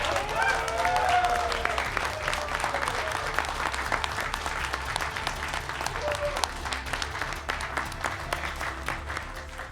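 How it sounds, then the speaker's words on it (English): Audience applause closing a live speedrun marathon segment for the RPG .hack//Infection race, steady dense clapping from a large crowd sustained throughout, loud and continuous with faint crowd voices mixed in. "Let's get one last round of applause."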